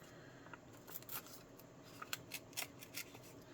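Paper torn slowly by hand with a back-and-forth wiggle for a vintage-style cabinet card, heard as faint, close, irregular crackling rips and scrapes over a quiet background, with no talking.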